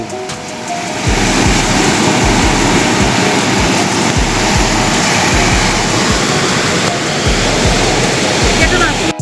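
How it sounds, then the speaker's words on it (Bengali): Ocean waves surge and break on the shore at Neil Island in the Andaman Islands, a loud continuous roar of surf with rhythmic crashing pulses and some wind buffeting the microphone. "তোমার পিছনে পুরো নীল সমুদ্র এবং ঢেউ সবই আসছে"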